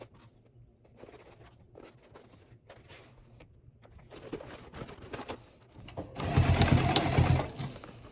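A sewing machine top-stitches the corners of a fabric zipper pouch, with soft handling rustles first and then a loud, close, steady motor whir for just over a second near the end.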